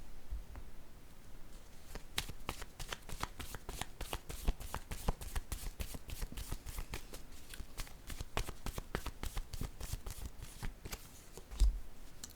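Tarot cards are shuffled in a long run of quick, crisp riffles and flicks, close and fairly quiet, with a brief thump near the end and no talking.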